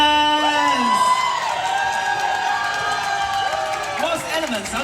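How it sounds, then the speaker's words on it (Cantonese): A crowd at the Hong Kong Disneyland dance-off party finale cheers for a dance team as it comes on, with sustained high whoops and shouts rising and falling over steady crowd noise. "掌聲歡迎 Rose Elements"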